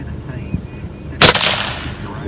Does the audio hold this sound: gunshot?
yes